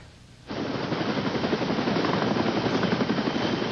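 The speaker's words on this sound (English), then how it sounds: "taken by Care Flight helicopter to a nearby hospital" A Care Flight helicopter at a brush fire rescue comes in suddenly and then holds as a loud, close, continuous rotor roar with a rapid rhythmic chop throughout.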